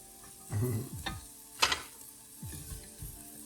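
A metal whisk scrapes and clatters through dry ingredients in a soup pot with no liquid, a few separate scraping strokes with one sharper rattle in the middle, close and moderately loud.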